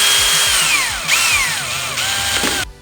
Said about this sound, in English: choose the correct size drill bit for these bolts